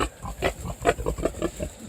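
A sow and pigs grunt in a close, steady run of short rough grunts, several overlapping across the stretch with no talk.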